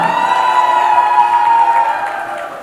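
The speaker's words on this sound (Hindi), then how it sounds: "अब आवाज करो, तालियां बजाओ, सीटियां बजाओ" Wedding sangeet guests cheering, clapping and whistling to welcome the bride and groom, a dense, loud burst of crowd noise with sustained whistles that fades toward the end.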